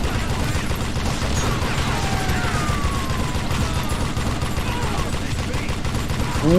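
Steady gunfight noise from the Call of Juarez Gunslinger western shooter, continuous dense crackle of shots and mechanical clatter, loud and unbroken throughout.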